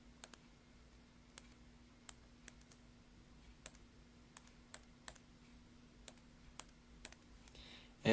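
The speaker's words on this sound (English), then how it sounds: "now I can go ahead and type that in" Quiet, sparse keystrokes on a computer keyboard while entering a calculation, single sharp clicks spaced irregularly over a faint steady hum, ending in a louder shuffle.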